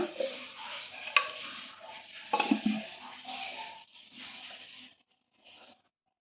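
Jowar flour dough is worked by hand with water and a pinch of turmeric, making soft, uneven squelching and scraping against the bowl with a few sharp knocks, then tapering off into near silence.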